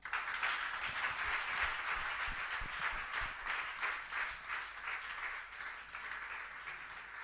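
A church congregation applauds during a French worship service, with steady, dense clapping from many hands, moderately loud and sustained throughout, and faint voices mixed in.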